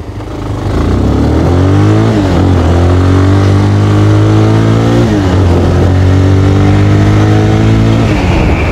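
A friend's faulty motorbike, hard to start, fires up and revs loudly right at the microphone, holding a steady buzzing idle with a couple of throttle blips that dip and rise in pitch.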